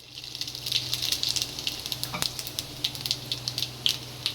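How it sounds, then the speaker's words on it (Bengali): Whole spices for a Bengali tempering (phoron) frying in hot oil in a pan for dhaba-style chicken kosha, a steady close sizzle with soft crackles and pops. "ফোড়নটা ভালো করে ভেজে নেবো, যতক্ষণ একটা সুন্দর সেন্ট না বেরোবে ততক্ষণ আমি ফোড়নটা ভেজে নেবো"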